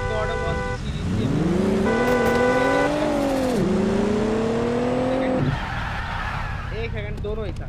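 Toyota Supra engine in a car parking video game, revving up and down through rising and falling exhaust notes for several seconds, loud and close, with a voice talking over it.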